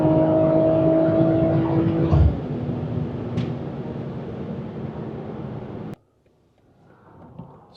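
A BMW M340i LCI engine with a Stage 2 tune hums and rumbles through its exhaust, drops in pitch as the revs fall, then cuts out abruptly into near silence.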